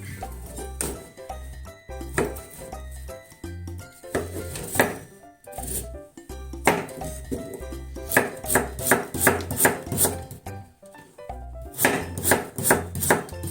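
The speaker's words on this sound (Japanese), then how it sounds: "そしたら今度はこれを切っていきますね。 薄く切りましょう。" A knife slicing an ingredient thinly on a cutting board, with rapid bursts of sharp taps separated by short pauses and a few light clinks of dishes, close up with no talking.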